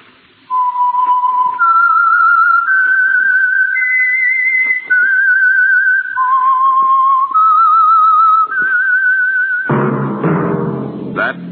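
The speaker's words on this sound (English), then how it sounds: "That whistle is your signal for the Signal Oil program, The Whistler" The signature whistle for the Signal Oil radio program The Whistler: a clear, loud, melodic whistled tune of sustained rising and falling notes, followed at the end by a short burst of orchestral music.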